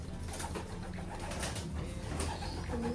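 Racing pigeons cooing inside a loft, soft repeated low coos overlapping at close range over a quiet background, with no talk.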